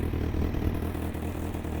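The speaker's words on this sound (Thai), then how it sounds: "เดี๋ยวผมอุดท่อให้ฟัง ให้ฟังเสียงเครื่องยนต์ชัดๆเลย" A 2017 Honda CB650F motorcycle engine idling with the exhaust blocked, a low steady mechanical hum with faint clatter, close and fairly quiet.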